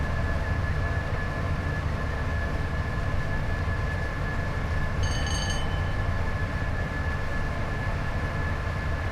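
Class 87 electric locomotive running the Preston to Carlisle line in Train Sim World 5, a steady loud rumble of wheels and traction with a constant tonal whine, and a brief horn-like tone partway through.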